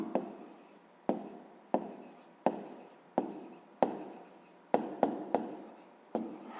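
Pen or chalk marks being written down for a math solution, heard as regular, distinct strokes about every half second to second, each a crisp tap trailing into a soft scratch, close and moderately quiet, no talking.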